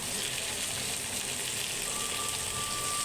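Okra (bhindi) frying in a pan gives a steady, even sizzle with a soft hiss that holds unbroken and close throughout, with no talking over it.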